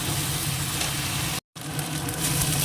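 A spice mixture with ginger paste and tomato frying in a pan gives a steady, quiet sizzle that breaks off for a moment and then resumes unchanged, with no voices.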